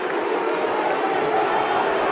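Unhappy Australian football fans in a stadium crowd during an Adelaide versus GWS match, a steady, loud wall of roaring and jeering that never lets up, with a commentator's voice faintly under it.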